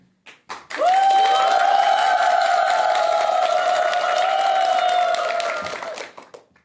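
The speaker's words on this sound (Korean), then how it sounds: "환호성이 너무 좋아서 매주 안 부를 수가 없네" An audience at a Buddhist temple dharma talk breaks into loud applause and cheering that swells quickly and holds steady for about five seconds. A sustained shout rises above the clapping before the sound fades out.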